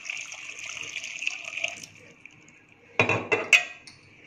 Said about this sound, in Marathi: यामध्ये पाणी घालूया,